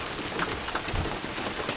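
Steady rain pattering outdoors in the open during a morning turkey hunt, a dense, even hiss of drops close around with no voices.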